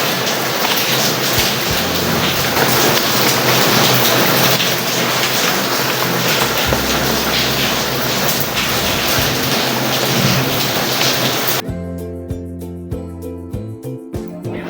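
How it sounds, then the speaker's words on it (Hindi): Heavy rain pours down steadily for most of the stretch as a dense, loud wash, then cuts off near the end, where a different quieter sound with distinct tones takes over. "मैं आपको बारिश की आवाज़ भी सुनाती हूँ।"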